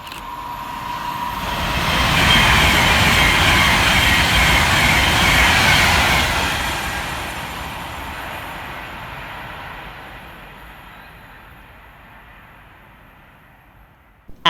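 Avanti West Coast Class 390 electric train, 390-040, passing through Lichfield Trent Valley station at speed: a loud rising roar and rush peaking early, then a long fading rumble as it recedes into the distance.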